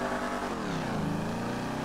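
A car pulls away in GTA 5, its engine note rising steadily with a harmonic whine as it accelerates, loud and close throughout the short burst.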